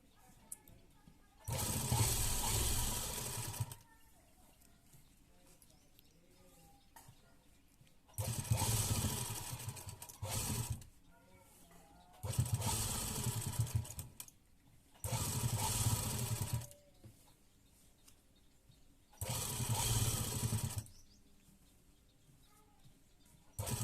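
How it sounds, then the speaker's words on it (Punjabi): Electric sewing machine stitching lace onto the round neckline of a garment, running in five loud bursts of a couple of seconds each, separated by quiet pauses, close and without talk. "ਹੁਣ ਆਪਾਂ ਇਹਦੇ ਨਾਲ ਨਾਲ ਲੈਸ ਦੇ ਲੈ ਕੇ ਆਵਾਂਗੇ ਸਲਾਈ"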